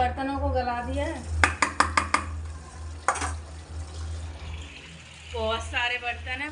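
Pots and dishes clink and clatter in a short burst of sharp knocks, followed by another clank, near and moderately loud, with someone talking before and after.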